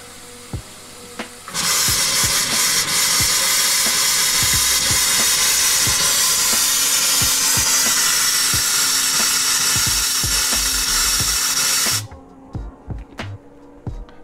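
After a quiet start, compressed air blasts loudly through a travel trailer sink's hot water line, a steady harsh hiss with sputtering water bursts that stops suddenly, leaving a few faint knocks.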